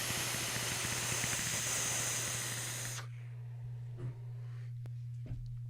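A vintage vape atomizer hisses loudly and steadily for about three seconds while being puffed, then cuts off, leaving a low hum with a couple of faint crackles afterward.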